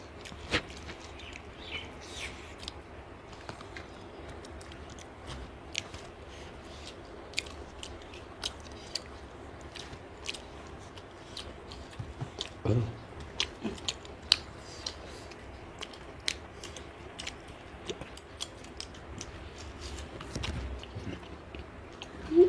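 Chewing duck meat at an eating challenge, with soft irregular bites and crunchy mastication sounds close to the mic, scattered clicks over a quiet background and no talk.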